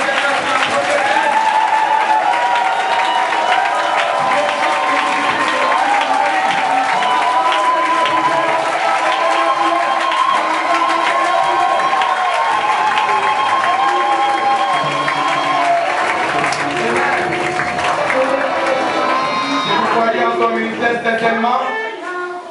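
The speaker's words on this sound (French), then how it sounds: "Mesdames et messieurs, acclamez le Seigneur pour la prophétie." Congregation at a church consecration of a prophetess, applauding and cheering loudly and continuously, with sustained crowd voices and shouts blending into a steady roar throughout.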